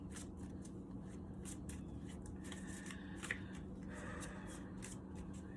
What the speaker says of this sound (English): you will hear me shuffling